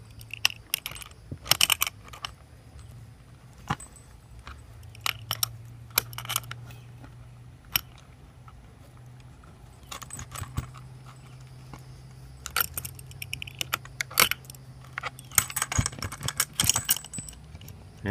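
Two metal wrenches tighten a nut on a bolt while building a chicken tractor, giving sharp clinks and jangling metal taps in irregular bursts, close up, over a low steady hum.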